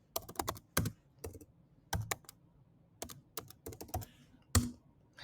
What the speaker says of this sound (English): by typing the command flutter version.